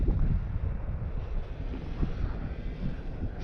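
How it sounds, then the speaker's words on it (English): Outdoor breeze picking up while a small brushless drone flies, heard as steady, rumbling wind buffeting the microphone, fairly loud and continuous with no talk. "Breeze is starting to kick up."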